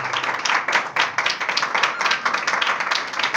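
A church congregation claps enthusiastically in praise of God, producing dense, loud, fast applause with no talking, sustained throughout.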